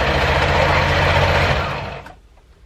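A sewing machine stitches a swimming skirt, running in a loud, close, steady mechanical whir for about two seconds before winding down and stopping.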